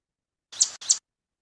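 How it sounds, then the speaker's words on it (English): Two quick bright chip notes from a yellow warbler, clean and close, each a sharp high call with a short gap between them, against silence. "I don't get to hear yellow warbler calls very much unless I go somewhere else."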